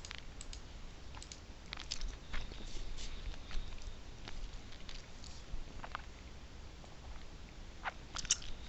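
Someone chewing gum close to the microphone: soft, irregular wet clicks and smacks, faint and continuous throughout, over a low background hiss.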